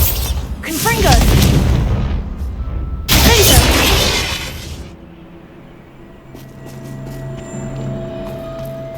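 A Confringo spell blast in the video game Hogwarts Legacy, two heavy booming bursts with shattering debris about two seconds apart, a character's voice mixed in, then the noise fades to a low rumble and scattered faint clicks.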